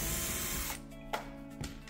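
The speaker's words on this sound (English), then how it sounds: "Right now, I am removing the screws from this plaster repair that we did to see how it did." A screw is driven out of a plaster wall repair, a buzzing ratchety tool run fading into a few sharp clicks and taps near the end.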